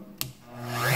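A Shapeoko Pro XXL CNC machine is switched on. A sharp click comes first, then a motor hum and whine that slowly rise in pitch and loudness as the machine spins up.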